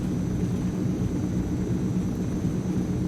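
Steady, droning engine roar of a Transall C-160 twin-turboprop transport in Microsoft Flight Simulator, a continuous low hum with a faint high whine, loud and unbroken throughout.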